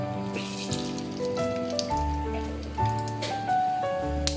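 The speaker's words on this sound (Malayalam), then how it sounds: "വെളിച്ചെണ്ണ ചൂടായി വരുമ്പോഴത്തേക്ക് അതിലേക്ക് കടുക് ഇടാം." Mustard seeds spluttering in hot coconut oil, a busy crackle of small pops over a steady sizzle, close and fairly loud, with no talking.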